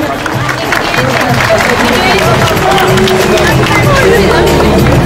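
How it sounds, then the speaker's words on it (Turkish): Loud, dense audience applause fills a beauty pageant hall in Küçükkaya as a contestant steps forward, continuous clapping blended with crowd murmur and hubbub throughout. "Alkış bekliyoruz efendim."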